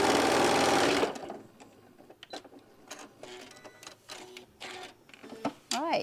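A sewing machine stitches strips of fabric off to the end of a seam, a loud continuous whirring run in the first second, followed by quieter handling clicks and faint talk.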